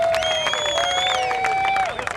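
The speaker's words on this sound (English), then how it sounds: "How about a big round of applause for the guy that's trying to be number one all weekend long?" A big crowd at a MotoGP rider charity auction applauds and cheers in a steady, dense wash, with whistles and a voice's rising shouts carrying over the clapping for about two seconds.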